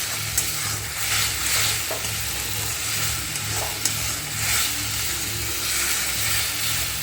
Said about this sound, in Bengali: রসুন বাটাটা দিয়ে খুব ভালো করে একটু নাড়িয়ে চাড়িয়ে ভেজে নেব